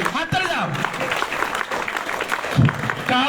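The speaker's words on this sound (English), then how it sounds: "Go clapping everybody." Students applauding at a school ceremony, a dense steady patter of many hands throughout, with voices talking over it.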